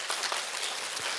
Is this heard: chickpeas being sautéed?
no